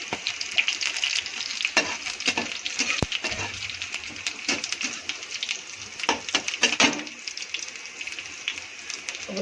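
Cumin seeds crackle and sizzle in hot oil with a dense, steady frying hiss, dotted with sharp pops and occasional stirring clatter throughout.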